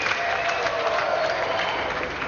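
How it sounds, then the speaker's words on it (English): Studio audience applauding snooker player Jimmy White on a TV games show, a brief, fairly soft burst of steady clapping with a faint murmur of cheering. "Another round of applause, thank you very much, Jimmy White!"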